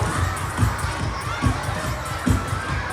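Children shout and cheer together as a crowd at a school sports day race, a steady loud mass of young voices with bursts swelling roughly every second.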